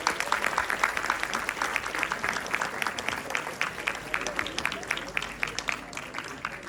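A summit audience at an entrepreneurship panel claps steadily and densely throughout as a speaker is welcomed on stage, with crowd murmur beneath the sustained applause.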